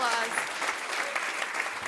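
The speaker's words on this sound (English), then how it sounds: "Round of applause" Brief, fairly quiet applause from a panel audience at a regenerative food systems event, soft clapping with a voice talking over it.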